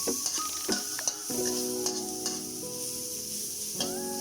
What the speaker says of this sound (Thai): ตอนนี้เราก็ผัดขิง สุกเป็นที่น่าพอใจแล้วหอม